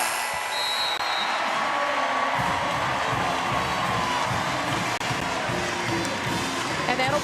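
Basketball arena crowd at the close of an NCAA women's tournament first-round game, Gonzaga against UC Irvine, a steady loud roar of cheering throughout, with some talk mixed in.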